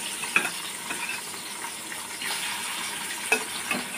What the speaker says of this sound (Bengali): এই যে মাছটা ভেজে নেব আমি প্রথমে